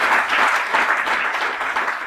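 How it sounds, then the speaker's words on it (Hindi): Loud, steady audience applause at a Hindi-language product training program, dense clapping filling the whole stretch with no voice on top. "एक बार जोरदार तालियां के लिए"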